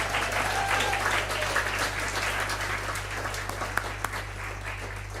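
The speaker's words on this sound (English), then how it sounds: "so we all give them a quick round of applause" Audience applause at a university academic awards evening, broad sustained clapping from a large room over a constant low electrical hum, with a few sharper individual claps standing out toward the end.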